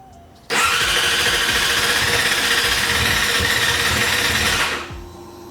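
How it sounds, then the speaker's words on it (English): A cold 2017 Yamaha R6 motorcycle engine cranks and fires up, roaring loudly and steadily for about four seconds before the noise drops off, close to the listener with no speech. "Flip the kill switch, turn on the ignition, and I'm gonna just press and hold on the start button."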